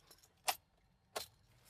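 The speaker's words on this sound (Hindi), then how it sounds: "इसको लगाते हैं यहाँ, ये चाबी को लगाएंगे भाई" Car keys for a Mahindra Scorpio N Z8 SUV jingle in two short, sharp metallic bursts, close by and quiet, with near silence around them.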